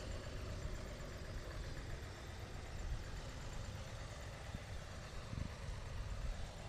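A restored 1969 Oliver tractor idles in a parade, a low, steady engine rumble that holds constant and fairly faint amid outdoor ambience.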